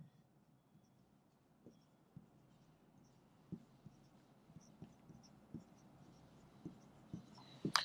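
Chalk or pen scratching out an equation on a board during a physics lecture on rotational motion, faint short strokes and taps in an irregular rhythm over a quiet room hum.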